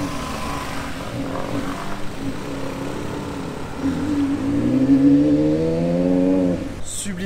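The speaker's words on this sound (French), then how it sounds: "Regarde ce qui arrive, une Carrera GT." A Porsche Carrera GT with its V10 drives past close by, engine note rising and swelling to a loud peak around the midpoint before easing off, with steady background crowd and street noise.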